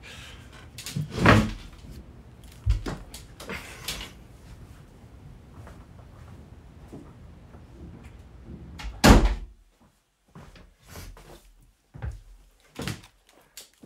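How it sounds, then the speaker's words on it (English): A door swings shut with a solid thud, then another heavier knock follows later amid soft shuffling and room noise. "I might go shut that door quickly."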